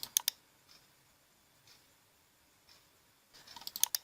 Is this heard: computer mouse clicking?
yes